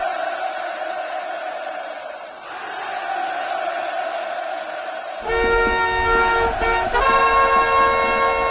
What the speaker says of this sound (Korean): 열광의 환호를 터쳐 올렸습니다